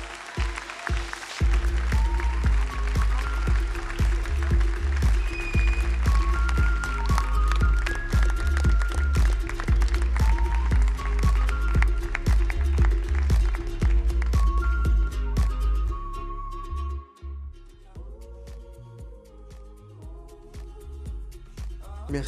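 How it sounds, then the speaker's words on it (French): Sustained, dense audience clapping fills a prize-giving ceremony for a gardeners' competition, greeting the contest's president, with steady applause that thins and fades toward the end. "je demande un applaudissement très très fort pour Jean Mus"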